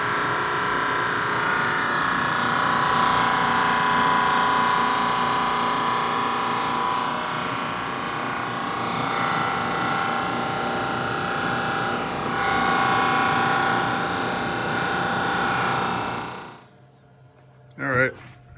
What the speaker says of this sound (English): running this through the drum sander a few times